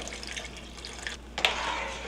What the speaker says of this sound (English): That was about an extra 3 cups of water I added.